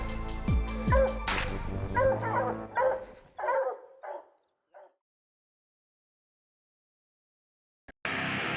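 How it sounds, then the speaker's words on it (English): Hunting dogs bark in a loud, rapid chorus at a mountain lion treed in Montana, the barking close and continuous for about four seconds before thinning to a few isolated yelps, then silence and a brief burst of noise at the end. "Good dogs."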